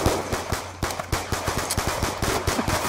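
Rapid gunfire from many players at once in a Black Ops 2 custom lobby, with sharp overlapping shots that crackle in a steady, dense burst for about three seconds.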